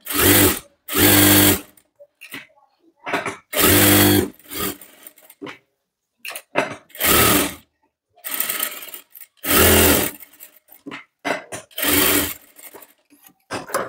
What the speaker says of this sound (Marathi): त्याच्यानंतर इकडनं पण आपल्याला शिलाई मारून घ्यायची आहे.